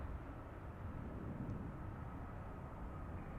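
Steady, distant low roar of an airliner with thrust reversers deployed as it decelerates on the runway at Zurich Airport, a broad rumbling wash holding level throughout with no voices.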